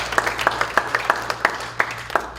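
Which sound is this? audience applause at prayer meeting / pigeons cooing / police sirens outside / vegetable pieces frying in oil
audience applause at prayer meeting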